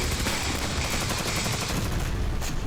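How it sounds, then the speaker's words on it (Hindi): Dense, continuous bursts of gunfire and explosions from the Russia-Ukraine war. Loud and rapid, with overlapping shots and blasts throughout and no pauses. "अनगिनत धमाके"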